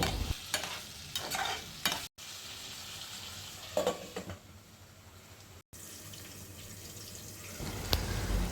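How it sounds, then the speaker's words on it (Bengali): Meat stirred with spices in a frying pan, with scraping strokes and a light sizzle, plus some water-like splashing, close by and intermittent, with no talking. "তারপর নেড়ে নেড়ে মাংসের সাথে মশলা মিশিয়ে দিয়ে ঢেকে দিব"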